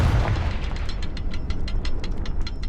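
A Confringo blasting spell explodes in Hogwarts Legacy with a heavy booming blast up front, followed by a steady stream of rapid crackling pops and debris bursts that continue evenly to the end.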